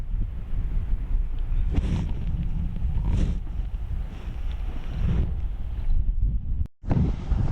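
Strong wind roars and buffets the microphone in rising and falling gusts aboard a sailboat offshore, with a low rumble of open water beneath.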